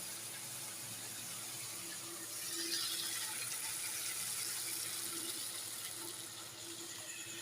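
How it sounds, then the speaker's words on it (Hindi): Water is poured into a pan of hot cabbage kofta curry gravy, a steady hissing rush lasting several seconds that swells midway and then eases off, with no talking. "अब हमें जितना ग्रेवी रखना है उतना हम पानी डाल देते हैं।"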